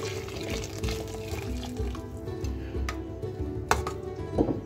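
Chicken stock pours steadily into a soup pot for mushroom soup, a continuous close liquid gush with small splashes and a few sharp clinks near the end, no talking.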